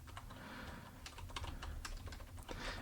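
Fast, steady typing on a computer keyboard, heard as close but faint clicky keystrokes over a low background hum, with no speech.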